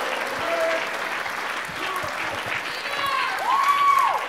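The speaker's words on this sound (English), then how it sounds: "So please give them a round of applause for Thomas." Loud, dense audience applause at a College of San Mateo electronic music concert, spring 2022, sustained for several seconds with a swell near the end and a brief high gliding tone, like a whistle, rising over the clapping.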